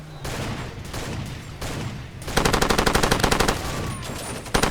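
A mounted machine gun fires in the video game Far Cry 2, starting with scattered shots and then breaking into a loud, rapid, sustained burst of evenly spaced rounds, with a final short burst at the end.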